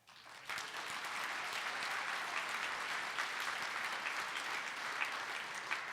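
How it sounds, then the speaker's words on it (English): Fairly faint audience applause at a talk show, rising quickly at the start into an even, sustained patter of many hands that carries on for several seconds without speech. "that's something you should clap for"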